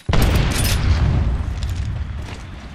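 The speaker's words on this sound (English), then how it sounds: "Look out, grenade!" A grenade explosion in Apex Legends, one sudden loud boom with a long rumbling decay that gradually fades.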